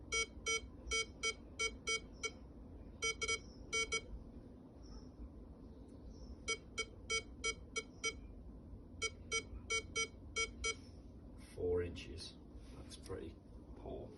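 A Staffordshire Air Detector metal detector emits bursts of rapid, high electronic beeps in repeated clusters, with short pauses between them, followed by a brief rustle and scrape near the end.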